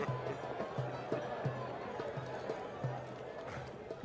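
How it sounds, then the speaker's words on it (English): Crowd noise at a fair in the video game Sorcery! Part 2: a dense, steady murmur of many voices with soft, regular thumps running underneath, like footsteps moving through the throng. "You push your way through the crowd"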